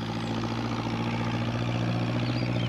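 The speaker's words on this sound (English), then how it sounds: "What with the noise of the tractor, Peter Fogg didn't hear Pat's call." A farm tractor engine in the 1996 animated Postman Pat series runs with a steady, low, humming drone at constant loudness, alone and without talk.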